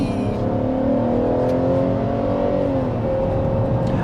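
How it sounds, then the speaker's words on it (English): Naturally aspirated V6 of a 2022 Chevrolet Traverse pulling hard at full throttle, a rising engine note heard from inside the cabin, sustained and fairly loud with no talk over it. "Oh, let me floor it."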